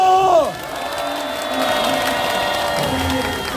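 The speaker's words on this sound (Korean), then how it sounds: "다시 한번 힘찬 박수와 함성으로 모시겠습니다" A crowd at the weekly Wednesday outdoor rally in Korea gives a cheer, with a rising shout and whooping near the start that settles into a sustained, moderately loud crowd roar with faint clapping underneath.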